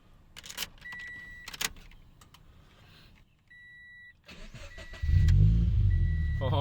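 A car's engine, just back from a sensor repair, turns over and settles into a loud, steady idle near the end, after quiet clicks and several short electronic chime beeps.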